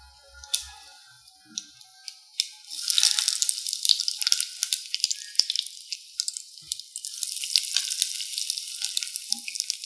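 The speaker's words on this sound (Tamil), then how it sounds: "ஆயில் நல்லா காஞ்சதுக்கப்புறம் கடுகு, வரமிளகாய், இதுக்கு பெருங்காயம் நான் சொல்லலை," Mustard seeds, dried red chillies and asafoetida hit hot oil for a drumstick mango sambar tempering, crackling and sizzling with sharp popping spatters that build into a dense, close hiss.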